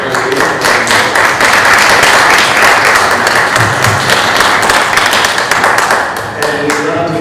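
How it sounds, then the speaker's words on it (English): Clapping fills a village board of trustees meeting room, loud and continuous from a modest group of people, holding steady for several seconds before tapering slightly near the end. "So let me lead a round of applause first."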